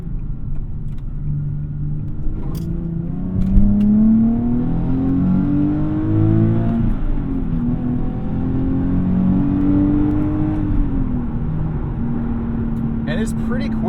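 A Nissan 370Z sports car engine revs up and down through gear changes with automatic rev matching, a steady loud rumble rising and falling in pitch inside the cabin, with a voice talking over it.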